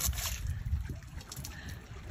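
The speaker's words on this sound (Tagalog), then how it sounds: "Bumubuga pa ng tubig." A large live squid, over a kilo and freshly caught, spurts water. The result is a close, continuous sloshing and gurgling splash with no talk over it.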